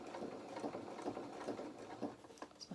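A sewing machine stitching a fabric baby bib at slow speed, with a steady, soft mechanical patter that stays fairly quiet throughout and has no voices over it.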